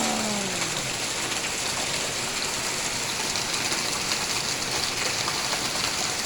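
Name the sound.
rain falling in the morning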